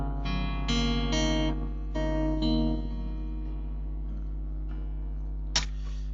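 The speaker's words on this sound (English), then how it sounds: "each string should be tuned half a step downwards" Guitar strings tuned a half step down strummed and left ringing in a low, slackened tuning, several chords sounding then fading, with a small click near the end.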